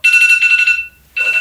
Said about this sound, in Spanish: Ah, es mi despertador.